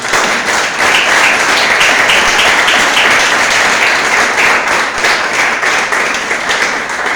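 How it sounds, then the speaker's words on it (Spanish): A church congregation breaks into loud, sustained applause, dense clapping filling the room at an even level for several seconds with only faint voices beneath. "Dale fuerte el aplauso al Señor"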